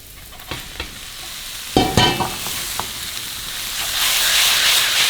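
Yakisoba noodles stir-frying in a hot pan, a steady sizzle that swells as the noodles go in, with a few sharp clatters of a utensil scraping and tossing them.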